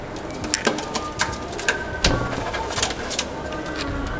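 Racing pigeons cooing in a loft, soft repeated calls near and far mixed with wing flaps and clicks, with faint voices in the background.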